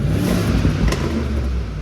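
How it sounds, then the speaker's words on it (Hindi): A Mercedes G-Wagon with a supercharged V8 engine revving briefly, a loud, close, throaty engine roar with a sharp burst near the middle. "ये जी वैगन की आवाज़ है।"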